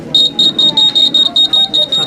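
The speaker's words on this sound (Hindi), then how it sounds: "सर ये अर्थक्वेक अलार्म है" Student-made earthquake alarm at a school science exhibition, beeping loudly in about ten rapid, evenly spaced high-pitched pulses, with voices murmuring underneath.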